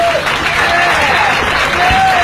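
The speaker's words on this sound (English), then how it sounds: "There's people clapping for this." Crowd clapping at a poolside event, heard as playback of a watched clip, with a dense wash of applause and some tonal whistle-like sounds and faint voices mixed in.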